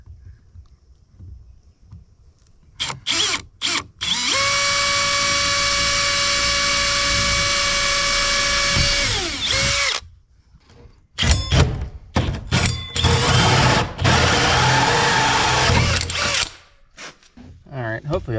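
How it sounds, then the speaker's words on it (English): A power drill whines steadily at high speed drilling a pilot hole for electrical wiring to a workshop, winds down, then short bursts of drilling and handling noises follow, close by. "Just gonna drill a pilot hole and then I'll drill it from the inside."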